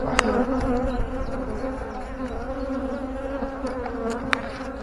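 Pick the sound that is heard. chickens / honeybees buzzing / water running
honeybees buzzing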